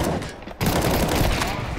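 Rapid bursts of gunfire in the video game Counter-Strike 2, a dense crackling fusillade that drops out briefly and then resumes loud and continuous, with a voice faintly mixed underneath.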